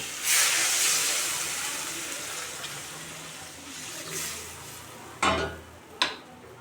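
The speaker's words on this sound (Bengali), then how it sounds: "এখন আমি পাশে একটু গরম জল বসিয়ে দিয়েছি সেই গরম জলটা আমি দিয়ে দেব" Hot water is poured into sizzling fried masala for a tomato fish curry, bursting into a loud hiss that fades slowly, followed by two short, sharp splashes or clatters near the end.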